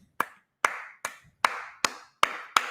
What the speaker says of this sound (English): I got a clap for you for that one